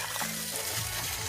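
Water pouring and splashing for an outdoor bath in a village, a steady, fairly quiet running flow with a low rumbling hum beneath it.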